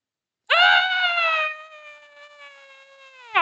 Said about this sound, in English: Hearing a scream, we all turned toward the direction it came from.